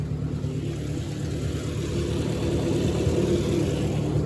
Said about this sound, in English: I'll turn on my PTO and just barely let it start turning.